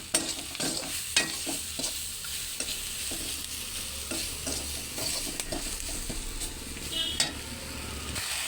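Spices with ginger and chilli being stirred and sautéed in a pan, a steady sizzle broken by repeated scraping strokes of a spoon against the pan, close and continuous.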